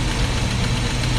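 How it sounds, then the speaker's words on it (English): Inboard boat motors idle while warming up before getting underway, a loud, close, steady rumbling knock with no talk. "Got the motors fired up, let them warm up."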